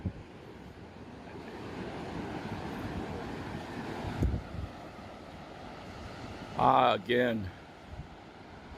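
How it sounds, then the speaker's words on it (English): Pacific Ocean surf and wind on a Mazatlan beach near a beachfront restaurant, a steady rushing wash with buffeting wind noise, briefly interrupted by someone speaking near the end. "the Pacific Ocean."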